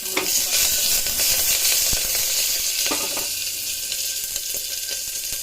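Curry leaves and cheese hit a hot pan with a loud, bright, continuous sizzle and crackle, plus a few sharp spatters and stirring scrapes up close.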